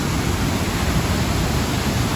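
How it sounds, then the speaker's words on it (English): Powerful waterfall at the end of Vintgar Gorge in Slovenia, a loud, dense, continuous roar of crashing water with no break, close by and alone. "the waterfalls mark the end of the gorge."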